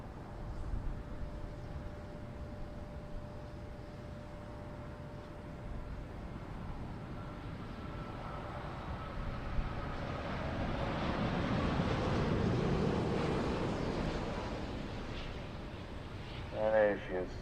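A Boeing 787-9 Dreamliner on its landing run at an airshow, its jet engine roar swelling steadily and broad, rising toward a peak near the end, with wind buffeting the microphone throughout.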